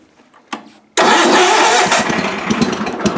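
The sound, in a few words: 1978 GT18 Suburban garden tractor engine starting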